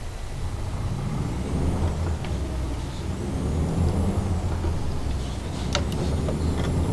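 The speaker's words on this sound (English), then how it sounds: "This truck is pretty loud when you're trying to drive it." A Freightliner Argosy truck drives in Euro Truck Simulator 2, a loud steady engine drone close up, with brief hissing bursts near the end.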